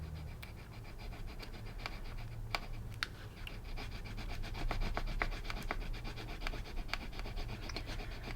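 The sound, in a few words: rubbing a rose transfer onto a sticky note with cutter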